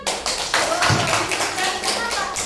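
Primary schoolchildren in a classroom clapping together in a quick, uneven burst of close hand claps, with a few children's voices mixed in.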